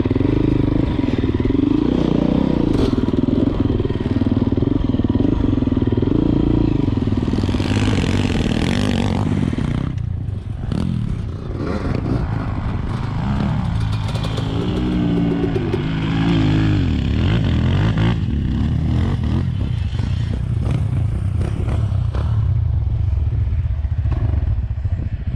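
Dirt motorcycles ride over the slopes of a quarry, engines droning loudly and revving in bursts, with clattering and scraping from the rough ground throughout.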